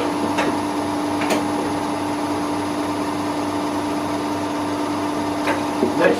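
A milling machine takes a first pass along the edges of a metal billet, cutting 2.5 mil deep, giving a steady, continuous machining drone with a constant tone and a few brief louder scrapes, fairly close and with no voices.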